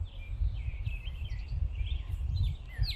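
A neighborhood bird chirps faintly at a distance in a loose, repeating pattern, over steady low outdoor rumble.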